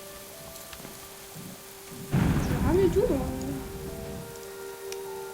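Steady rain in a video game with a rumble of thunder rolling in, while a person speaks briefly over it.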